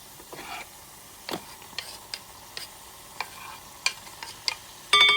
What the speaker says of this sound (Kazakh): Тұзды ең алғашында қоспаймыз, осылай 20 минуттай қуырылады ғой етіміз.